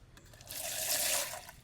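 Water splashes and trickles softly for a second or so as some is drawn for a hair wash, faint and close.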